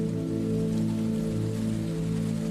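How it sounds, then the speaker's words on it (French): Gentle rain falls steadily and softly beneath a sustained, humming musical drone, with no change in intensity. "Peu à peu, la pluie s'apaise."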